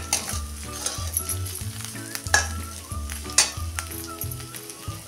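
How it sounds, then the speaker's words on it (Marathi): A coarsely crushed ingredient sautéed in oil over a low flame for sabudana khichdi, giving a steady close sizzle punctuated by repeated spatula scrapes and taps against the pan; no speech. "असा बारीक मोठा तुमच्या आवडीप्रमाणे फोडून तेलात परतून घ्यायचा आहे"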